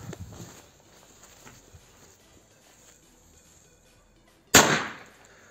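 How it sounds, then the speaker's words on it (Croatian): A Mini Pirat firecracker bursts once with a sharp, loud bang near the end, followed by a short decaying echo after several seconds of quiet outdoor ambience. "prva petarda je mini pirat"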